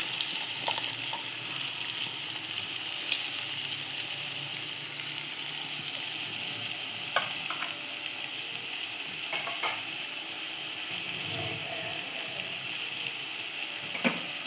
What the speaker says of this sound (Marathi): आता आपण त्यात टाकणार कांदा जो आपण चिरून घेतलेला आहे मगाशी बारीक बारीक